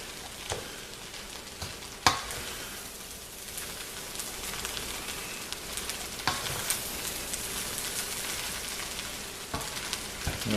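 Vegetable fried rice is stir-fried in a pan, with a steady sizzle and repeated scraping stirs that are close and moderately loud, plus a few sharper clatters of the utensil against the pan.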